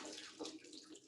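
A little water pours into a container indoors, a brief, faint, steady trickle lasting about a second with no voices.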